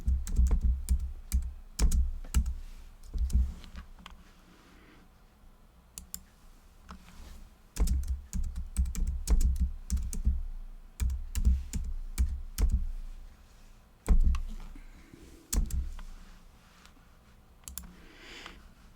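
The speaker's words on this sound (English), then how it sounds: "You can hear my mouse now." Rapid computer mouse clicks come in bursts, close and crisp, with short quiet pauses between clusters of clicks.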